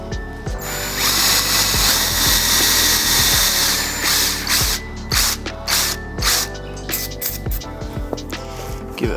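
A drill grinding out the rivets of bumper repair tabs on a Mitsubishi Evo 9 front bumper, loud whirring bursts that stop and restart with ratcheting clicks between them.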